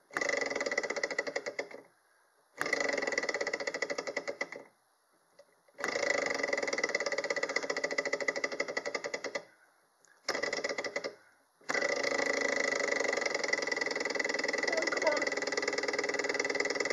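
Small Stirling engine running after its flywheel is kicked, a steady fast mechanical clatter that cuts out and restarts several times before settling into a continuous run, with no voices over it.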